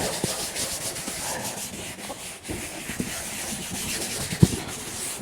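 Writing is erased from a board in a classroom, a close, loud, continuous rubbing and scraping lasting several seconds with a sharp knock near the end.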